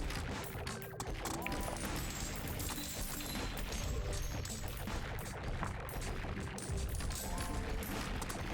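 A dense, rapid stream of bullets fires nonstop in a dwarf mining game, making a steady crackling barrage with game effects layered underneath and no pauses.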